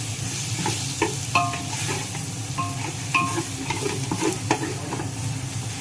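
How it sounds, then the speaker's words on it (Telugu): Chopped tomatoes fry in a pan for biryani, giving a steady, close sizzle with scraping and stirring clatter from a spoon at irregular moments. "దీన్ని ఒక 5 నిమిషాలు వేపిస్తానండి"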